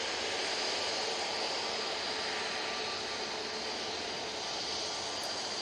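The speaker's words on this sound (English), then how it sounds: "we will have this Jet2 A321neo going out" A Jet2 Airbus A321neo departs Manchester Airport, its jet engines giving a steady, broad roar heard from a distance without interruption.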